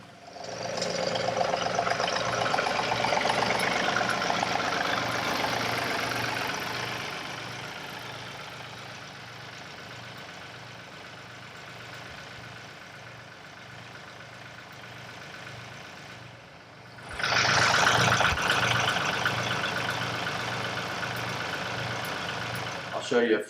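A tractor running a 48-inch Titan Attachments AGL125 offset flail mower while mowing a pond bank, a steady droning engine and whirring mower that eases off mid-way then surges loud again near the end.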